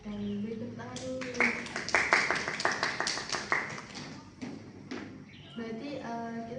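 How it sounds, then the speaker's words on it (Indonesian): A small group of students claps during a career guidance class, a brief burst of hand claps rising and then fading, with voices talking before and after. "Beri tepuk tangan dulu"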